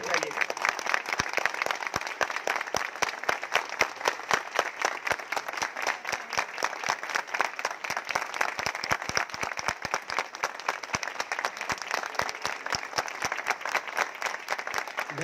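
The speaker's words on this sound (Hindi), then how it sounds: "थोड़ा सा तालियां 1 मिनट जोर से बजाइए।" A crowd claps continuously and energetically for a long stretch, a dense, even wash of applause with scattered sharper claps.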